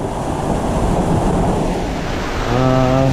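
Strong wind and surging waves at a mangrove area during Tropical Storm Opong with a sudden high tide, a loud continuous roar buffeting the microphone, with a low engine-like hum rising near the end.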